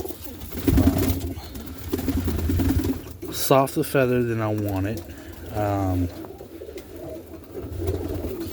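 Roller pigeons coo and murmur in a dark loft during feeding, soft low cooing throughout while someone talks close by over the birds.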